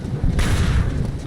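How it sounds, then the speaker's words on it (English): A grenade blast in Fallout: New Vegas, a loud booming explosion with a rumbling low-end tail lasting about a second, close and dominant. "Grenade!"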